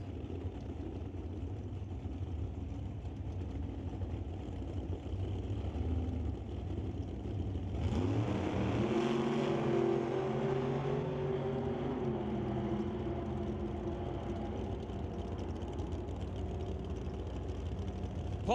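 West Coast Pro Modified drag race cars rumble at a distance, then a loud engine roar rises around eight seconds and holds, sustained and fairly far off.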